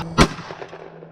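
A single loud shotgun blast at a clay target on an outdoor range, a sharp crack that rings out and fades over about a second.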